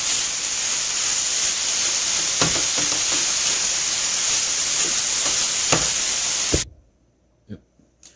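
Ground meat for pizza browning in a hot pan, a steady loud sizzle and hiss with a few scraping stirs, cutting off abruptly near the end to quiet with faint clicks.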